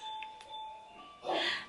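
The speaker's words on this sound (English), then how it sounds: "Our doorbell is playing We Wish You a Merry Christmas." A doorbell chimes out the tune of We Wish You a Merry Christmas in thin, steady electronic tones, moderately close, ending in a louder burst of room noise.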